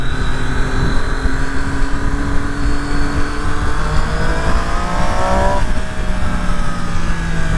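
A loud 2018 Triumph Street Triple 765 R motorcycle engine, stock exhaust, revving and pulling away, the pitch rising through the gears with a throaty, continuous roar.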